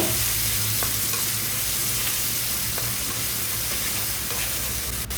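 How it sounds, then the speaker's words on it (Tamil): Chopped tomato sautéing with onions and salt in a pan, a dense continuous sizzle with faint stirring clicks, close and steady with no talking. "அதை போட்டு இது கூட உப்பு சேர்த்துட்டு இதையும் நல்லா வதக்கி விட்டுக்கோங்க"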